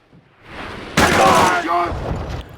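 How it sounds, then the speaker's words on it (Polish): Anti-aircraft gun firing in Call of Duty: Roads to Victory on PSP: after a low rumble, a loud, sharp burst of gunfire breaks in near the middle and settles into continued heavy battle noise. "gdzieś słyszę cały czas wali jakieś działo. Najprawdopodobniej jest to działo przeciwlotnicze."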